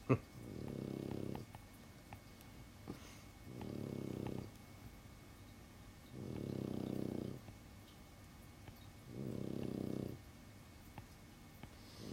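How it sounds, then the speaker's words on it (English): A dog snores nearby in slow, regular rumbling breaths, four long snores spaced a couple of seconds apart in an otherwise quiet room. "that's my dog snoring"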